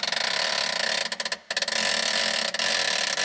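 A ratchet works on 10 mm bolts on a twin-turbo BMW, a dense, fast, close clicking pawl running almost continuously with a brief pause midway.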